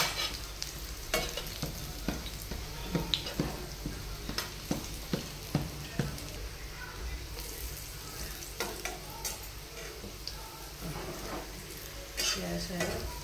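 Colocasia leaf rolls (alu vadi) frying in a pan, a soft continuous sizzle broken by frequent clinks and scrapes of a utensil turning and stirring them, fairly quiet and close.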